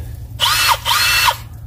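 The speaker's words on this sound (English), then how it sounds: "A drill." A power drill whirs up twice in quick succession, each burst rising and winding down over a steady low hum, close and loud.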